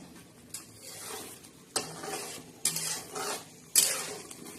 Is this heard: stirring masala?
yes